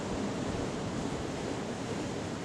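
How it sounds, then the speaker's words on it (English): Ocean waves washing onto a San Francisco beach, a steady broadband surf roar with some wind, continuous and fairly even, no voices. "Sitting here at the ocean, watching the waves and the people."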